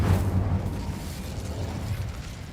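An Incendio fire spell blasts out in Hogwarts Legacy: a loud, low booming burst that rumbles on steadily for a couple of seconds without fading much.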